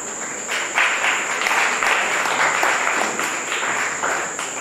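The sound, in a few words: audience applause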